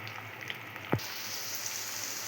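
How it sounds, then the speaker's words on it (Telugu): Bitter gourd pieces frying in hot oil, a soft steady sizzle with a brief sharp utensil scrape near the start, close but fairly quiet. "నేనైతే కాకరకాయలు వేసేసానండి వేగుతున్నాయి"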